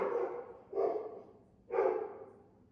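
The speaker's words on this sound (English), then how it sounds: "excuse my neighbor's dog. He be tripping sometimes" A neighbor's dog barks outdoors, heard through an open door, three moderately distant woofs spaced about a second apart with no talk over them.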